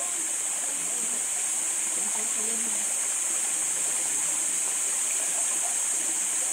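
Stream water flowing steadily over rocks outdoors, a continuous broadband rush heard close and fairly loud throughout, with no break.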